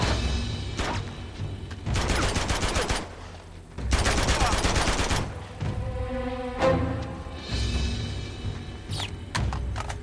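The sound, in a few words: AK-47 gunfire in the video game Uncharted 2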